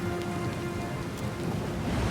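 Storm rain lashing a ship's deck in Pillars of Eternity 2, a dense, steady hiss of falling rain with a faint low rumble beneath, continuous and unbroken throughout.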